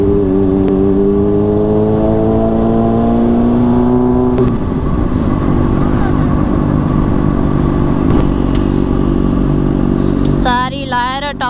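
A super bike engine revs up close and loud, its pitch climbing in repeated sweeps before settling into a steady, gritty drone, with a brief voice at the very end.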